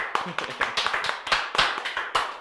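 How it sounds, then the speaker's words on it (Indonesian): A small audience claps for a guest on a podcast set, a short run of sparse, distinct handclaps at close range with no talk over it. "Tepuk tangan untuk narasumber kita"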